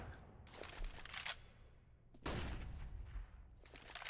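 Grenade blasts in a Counter-Strike: Global Offensive match, two or three booming bursts with broadband crackle, the loudest thud near the middle, over steady game ambience.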